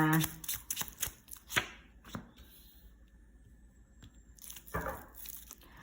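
Tarot cards are handled at close range: a quick run of papery flicks and shuffles, a short quiet gap, then another burst of card slaps and slides near the end.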